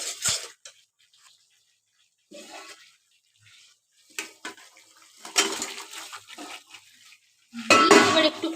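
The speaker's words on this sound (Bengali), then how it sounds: "এবার এর মধ্যে আমি আলুটাকে দিয়ে দেবো।" Potatoes drop into a pan of masala and are stirred, producing short bursts of clattering and scraping that are separated by quiet gaps and grow louder near the end.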